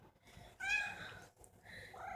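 A house cat meows up close, a short needy cry followed by softer chirping vocalizations in a quiet room.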